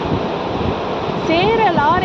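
Sea waves at Kudla beach produce a steady, close hiss of surf throughout, and a voice enters near the end.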